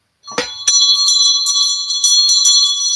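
A handheld ritual bell, used to call on ancestors, is struck close by and then shaken repeatedly. It gives bright, sustained metallic ringing with several renewed strikes over about three seconds and no voices.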